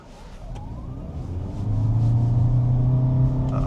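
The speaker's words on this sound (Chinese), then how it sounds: "那么现在我们再来试多一个加速" A Toyota Vios GRS hybrid car accelerates during a test drive, engine drone and road rumble building steadily from inside the cabin and growing louder past the midpoint, with no talk over it.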